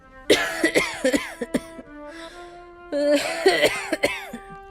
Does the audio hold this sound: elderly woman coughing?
yes